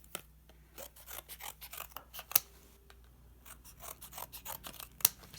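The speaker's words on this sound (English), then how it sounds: "here's a little pair of scissors" Small scissors snipping in short clusters, crisp close metallic cuts with rasping between them and a couple of sharper clicks, no talking.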